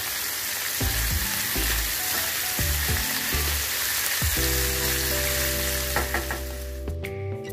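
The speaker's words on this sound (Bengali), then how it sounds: "কারণ চিংড়ি মাছ বেশি ভাজলে না ছিটে পাকিয়ে যায়। তো হালকা করে 2 পিস ভেজে নেব।" Two roe-filled prawns fry lightly in oil for a prawn curry, with a steady, loud sizzle and crackle throughout, punctuated by a few utensil taps near the end.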